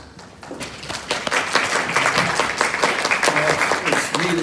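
Conference audience at a Keep America Beautiful gathering applauds, a rising wash of many hands clapping steadily and close, with a voice speaking over the later part.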